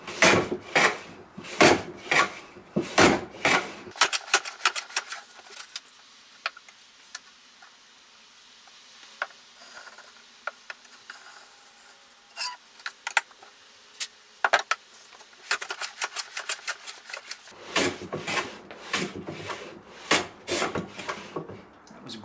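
A hand plane scrapes across the end grain of an acoustic guitar neck heel in bursts of short rasping strokes, with a quiet pause in the middle before the rhythmic shaving resumes up close.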